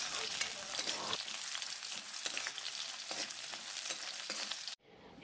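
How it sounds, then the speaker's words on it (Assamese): Onions fry in hot oil in a home kitchen while a yam potato and fish curry is made, a steady close crackling sizzle with scattered pops, fairly quiet, then cutting off abruptly near the end. "এতিয়া মই ইয়াতে পিঁয়াজখিনি দি দিম পিঁয়াজখিনি ভালদৰে ভাজি লম"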